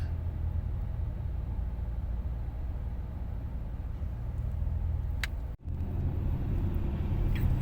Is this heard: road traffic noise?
yes